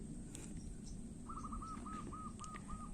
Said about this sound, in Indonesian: Bunyi burung alami, artinya burung liar seperti burung perkutut, burung derkuku